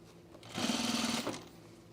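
Sewing machine stitching a pair of Glissando pants close to the waistband, a quiet, brief burst of rapid needle hum lasting under a second, alone with no talk.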